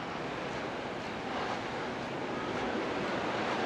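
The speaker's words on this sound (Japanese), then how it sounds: "結構波高いんじゃないかな。" Waves break on a beach in Hawaii, with steady, loud, broadband surf and wind rushing across the microphone and no pause throughout.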